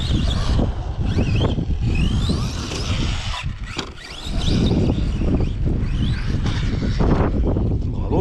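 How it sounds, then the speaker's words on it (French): Wind blows hard and steadily across an outdoor spot where people drive small 1/8-scale RC cars at a ramp, a loud broadband rush that gusts throughout, with squeaky sounds of the little cars mixed in. "C'est le vent, c'est le vent. Tu l'entends de toute façon, ça souffle."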